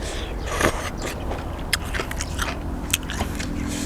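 Someone eats a spicy Thai rice noodle salad made with water lettuce, chewing close up with wet, crunchy bites and smacking over a steady background hiss.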